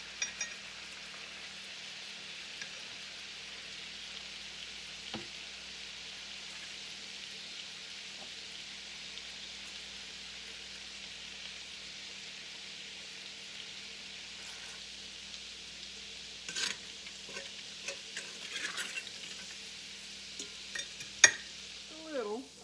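Chicken pieces frying in a pan on a home stove, a steady, even hiss and crackle that holds throughout, with occasional clinks and knocks of utensils near the end.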